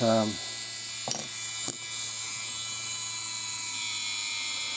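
A Tamiya TT02 RC car's Austar electric motor whirs at high revs, steady and close. A short falling tone opens the sound and a couple of faint clicks come partway through.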